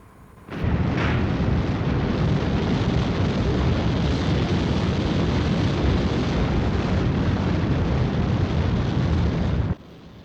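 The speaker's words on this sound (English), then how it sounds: "Full power. Liftoff." A rocket lifts off at full power with a sudden roaring blast that holds as a loud, dense, continuous rumble for about nine seconds, then cuts off abruptly.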